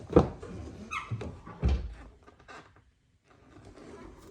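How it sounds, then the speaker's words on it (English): Rear door of a 2019-2025 Chevrolet Silverado pickup truck opening and closing, a short burst of clunks and latch knocks with a slight squeak, close by, then settling into quiet. "Not sure, I got a little bit of a squeak there."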